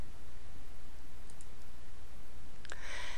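A few faint, quick mouse clicks sound over a steady background hiss, ending with a sharper double click near the close.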